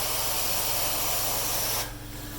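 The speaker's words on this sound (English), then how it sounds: "Here comes the hot water." A truckmount carpet cleaning wand sprays hot water onto thick nylon carpet, giving a steady loud hiss that cuts off abruptly near the end.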